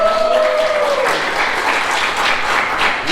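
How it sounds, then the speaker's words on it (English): An audience at a club meeting bursts into sustained applause, many hands clapping steadily and fairly loudly for several seconds, with a voice briefly audible at the start. "please give her one more round of applause."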